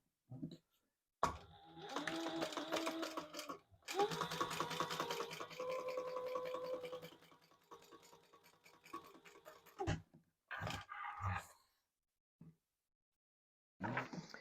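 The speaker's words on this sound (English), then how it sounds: "we're going to top stitch that, or base that really, in place" A sewing machine stitches along a zip to baste it in place on a double-zip leather wallet. The motor hum runs steadily for several seconds and then gives way to a few shorter, fainter bursts.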